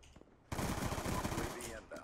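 A rapid burst of automatic fire from a Cap 40 rifle in the shooter game Black Ops 2 rattles loudly for about a second, then tails off amid game sounds.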